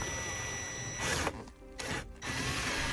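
A power drill drives provided self-tapping screws through a brake controller bracket into the dash of a 2016 Ford Transit T350, a close, loud whirring that dips briefly twice before resuming, with no talking.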